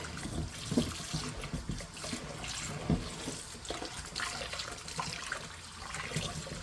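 Water runs from a kitchen faucet into a sink in a steady, soft splashing stream with occasional clunks, quiet and close.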